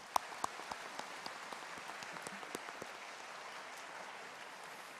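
A church congregation gives scattered, fairly faint applause during an evening worship service, a loose patter of claps with a few sharper individual hand claps standing out near the start, heard from a distance in a large room.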